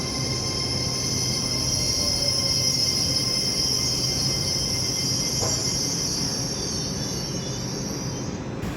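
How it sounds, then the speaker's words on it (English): Avanti West Coast Class 805 train passing through Milton Keynes Central station, a continuous rumbling wheel and engine noise with a high sustained whine and squeal, steady and fairly close. "And the pile on platform 4 is going to be Avanti West Coast Class 805 Avero, going from Birmingham New Street bound for London Euston."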